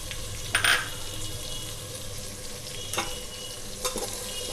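Coriander, cumin, black pepper and garam masala powders stirred into a village-style Andhra fish curry over low flame, soft steady sizzling with a few sharp spoon scrapes against the pan.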